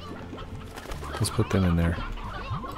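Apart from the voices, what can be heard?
rock chickens clucking in the video game Slime Rancher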